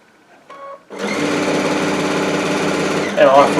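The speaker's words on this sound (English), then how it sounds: "Put it right up underneath the needle, lower our foot, and start sewing" A Baby Lock Altair sewing machine stitches binding onto a quilt, starting with a short burst, then running as a steady, loud, close whir that continues to the end, with a brief voice near the start.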